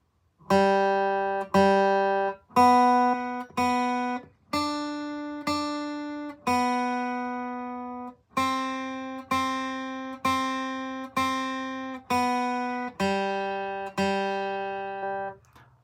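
A clean electric guitar plays a slow single-note melody, each note struck clearly and left to ring before the next, with short pauses between phrases.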